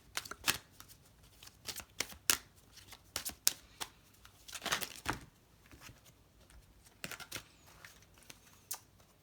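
Cards from an oracle deck are handled and shuffled, giving soft intermittent riffling and flicking sounds in uneven clusters, close but quiet, with no talking.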